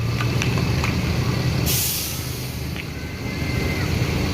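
Buses pulling into Terminal Balai Solok, a sharp hiss of air brakes cutting through a steady rumble of idling diesel engines and road traffic, with heavy vehicle noise filling the scene up close.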